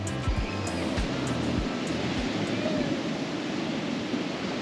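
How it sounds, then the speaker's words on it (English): Steady broadband wash of Black Sea surf at Mamaia Beach, Romania, rolls on continuously, with low rumbling wind buffeting the microphone early on. "Waves are so huge, so big."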